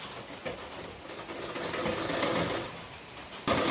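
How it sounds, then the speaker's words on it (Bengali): A sewing machine stitches the front parts of a princess-cut blouse, a soft steady whirring run that swells in the middle and eases off, ending with a sharper burst near the close. "তার উল্টো দিক থেকে আমি এবার সেলাই করছি।"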